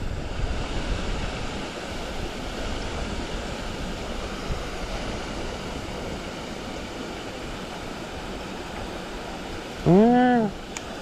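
Water pours over a small spillway during bass fishing, a continuous close roar that stays steady throughout, broken only near the end by a brief rising tonal chirp.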